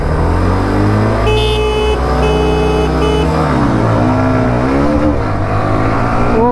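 A Bajaj Pulsar 125 and a 2026 Hero Xtreme 125R drag race, their engines roaring loud and close with rising and falling revs. A horn blares in short blasts early on.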